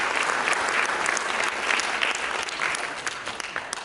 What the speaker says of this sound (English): can we give our panelists a rousing round of applause?